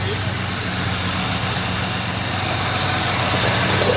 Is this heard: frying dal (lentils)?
no